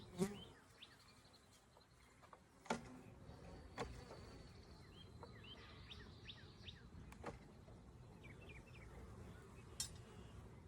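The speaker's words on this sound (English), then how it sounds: "And we have bees." Honey bees buzz around an open hive box, with faint intermittent buzzing and brief chirps over quiet outdoor background, a few soft knocks and handling sounds nearby.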